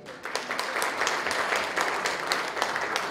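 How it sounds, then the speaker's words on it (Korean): Audience applause at the Dream Rotary Club founding ceremony in Cheongju, a steady round of many hands clapping together in a hall, sustained evenly for a few seconds. "박수 한번 다시 부탁드리겠습니다"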